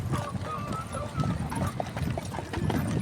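Steady, rhythmic clip-clop of a horse-drawn carriage's hooves on pavement near the pyramids in Egypt, close by, with a low rolling rumble and faint voices in the background.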